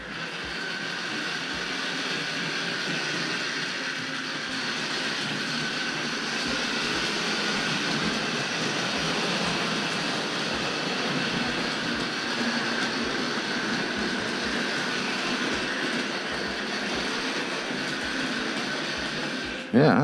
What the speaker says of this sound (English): The locomotive definitely makes a different sound in the opposite direction.